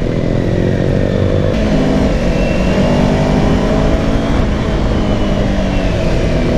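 A Modenas Kawasaki Ninja 250i motorcycle engine revs while riding, loud and close, its pitch rising and shifting through gear changes in a continuous roar with no voices.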